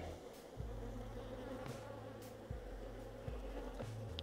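Honeybees buzzing during a beehive frame inspection: a steady, close droning hum with faint wing whines rising and falling over it, and no voices.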